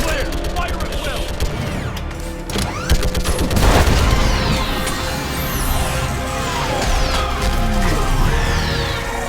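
Dense weapons fire and a heavy orbital strike roar through a Mass Effect 3 battle against a live Reaper, with continuous loud crackling gunfire, booms and mechanical clatter filling the whole stretch.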